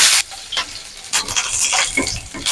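Onions frying in a pan for mirapakaya pachadi, a green chilli chutney, with a steady sizzling hiss broken by a few short scraping stir bursts, close and fairly loud.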